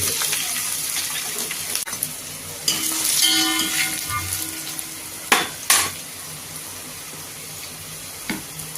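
Mustard seeds, cumin, garlic and dried red chilies sizzle in hot oil while tempering for sambar, a steady close frying hiss broken by a few sharp pan clatters and stirring knocks.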